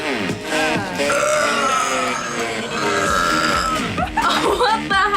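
A burp from a burping contest rolls out close up, croaky and grunting, blending with voiced sounds in the throat and some speech.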